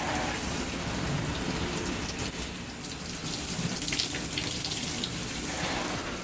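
Shower water streams steadily onto a dirty vacuum cleaner filter, a continuous close hiss and splatter of rinsing water with no break.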